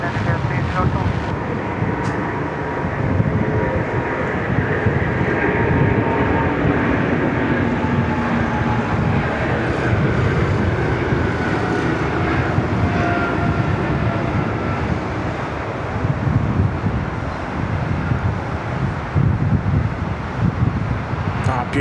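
A heavy Air India jet in Star Alliance livery lands at Sydney Airport, a loud broad roar of engines and rushing air that holds steady throughout, heard from a distance.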